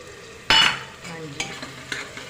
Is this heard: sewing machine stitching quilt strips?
no